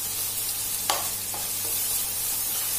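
Garlic, bird's eye chillies and dried chillies stir-fried in a pan give a steady close sizzle throughout, with a few short scraping clinks of the spatula against the pan.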